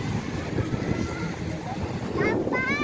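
Wind and shallow sea waves at a beach resort make a steady low rush, with wind buffeting the microphone and a person speaking over it near the end.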